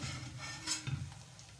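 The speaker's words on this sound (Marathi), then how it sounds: "तर हे बघा आपण अशा प्रकारे तळून घेऊया सर्व" Rainy-season snacks such as samosa and kachori frying in a pan, giving a soft, steady sizzle with a brief stirring clatter near the middle, heard fairly faint and without talk.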